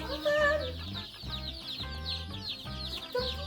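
Backyard chickens, both egg layers and meat birds, cluck in short repeated bursts close by. The calls overlap against a steady tonal background with no talking.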